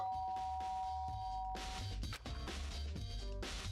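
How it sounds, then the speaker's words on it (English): A doorbell rings in the video game Danganronpa as a clear electronic ding-dong tone over the game's background music, with no voices. "I press the doorbell."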